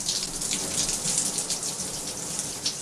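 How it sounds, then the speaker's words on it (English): Steady, dense simulated tropical rain hiss with scattered droplet patter, loud and continuous with no voices. "more lightning in the tropical rain simulation"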